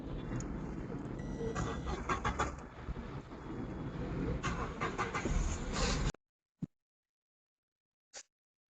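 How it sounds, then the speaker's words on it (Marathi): A Renault Kwid fitted with a CNG conversion kit runs on petrol, giving a rough, close engine rumble for about six seconds. It then falls silent apart from two faint clicks. "ही गाडी आता पेट्रोलवरती स्टार्ट झालेली आहे."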